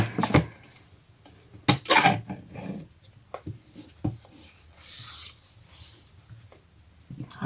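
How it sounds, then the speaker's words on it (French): Paper guillotine trimmer cutting card stock while making a summer greeting card, with scattered scrapes, taps and sliding blade strokes in an irregular, close sequence. "je vais couper ça avec ma guillotine pour que ce soit"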